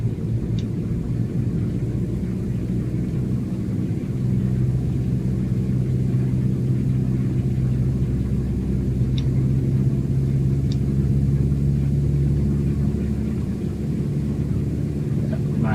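A Cessna 152 light airplane's engine drones steadily in the cabin on landing approach with full flaps, a low continuous hum with a faint tonal whine, while people talk over it now and then.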